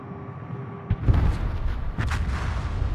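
Naval guns fire at a target in World of Warships, a pair of heavy booms landing about a second apart, followed by a deep lingering rumble of battle noise at close range.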